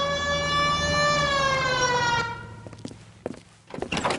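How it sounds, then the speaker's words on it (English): Police car siren in the video game L.A. Noire, a loud rising-and-falling wail for about two seconds that cuts off sharply, followed by scattered thumps and quieter engine rumble. "Hit the siren."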